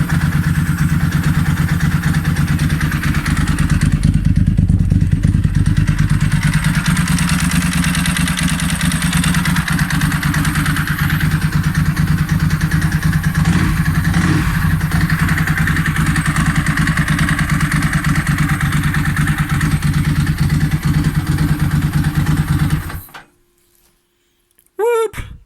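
A Ducati motorcycle engine runs loud and close at a steady, rough idle, with a slight rise in revs midway, before it shuts off abruptly near the end.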